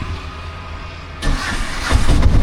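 A 2026 Piaggio Ape Classic auto rickshaw engine idles with a low, steady rumble, then revs up abruptly as the clutch is worked, growing louder and rougher near the microphone.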